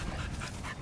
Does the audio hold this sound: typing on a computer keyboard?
no